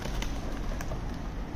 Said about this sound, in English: We got some pigeons.